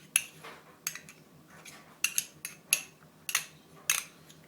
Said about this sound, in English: So I'm going to put my 1/4 cup of coconut oil into my pot